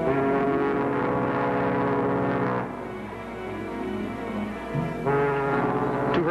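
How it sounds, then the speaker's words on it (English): A ship's deep foghorn blasts through fog at sea, a loud sustained harmonic tone lasting a few seconds, then a quieter lull before the horn sounds again. "the foghorn adds a note of romance to the last night out"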